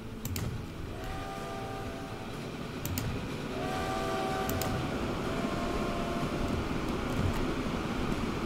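A train hauled by the 4468 Mallard locomotive in Transport Fever rolls with a steady rumble, with two short whistle or horn tones and occasional clicks over it.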